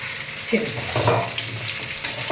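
Jujubes sizzle in hot oil with panch phoron for a sweet-sour jujube pickle, a steady close frying hiss with a few soft stirring scrapes, no voices.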